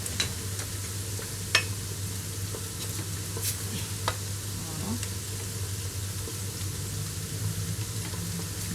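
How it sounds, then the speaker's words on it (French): Onions sizzle and fry steadily in a pan, a close, continuous crackle with a few sharp utensil clinks and scrapes scattered through it, in a kitchen where potatoes are also being fried for a potato and spinach gratin. "Là je fais revenir mes oignons."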